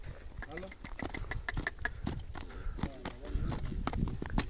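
A mare's hooves clip-clop on a Gir village farm, a close, irregular patter of sharp knocks, with people's voices in the background.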